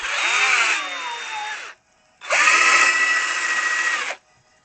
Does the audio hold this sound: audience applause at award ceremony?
no